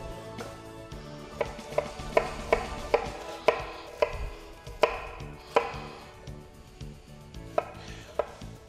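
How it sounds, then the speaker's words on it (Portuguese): A knife chops onion finely on a board for risotto, a run of sharp, close, fairly regular strikes that speed up and then slow, with no talk. "a gente vai bater ela com a faca"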